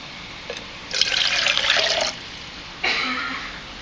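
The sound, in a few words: pouring water into a Vargo BOT bottle pot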